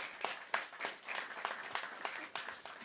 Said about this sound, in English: If you guys gave her a round of applause.